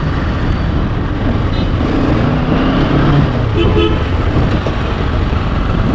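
Night road traffic in Hyderabad, a dense, loud roar of cars and trucks passing close by, with short horn toots cutting through the continuous rumble.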